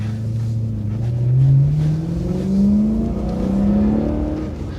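A BMW E92 M3 engine revs steadily, its pitch climbing and dipping in long smooth swells, loud and close with no talking.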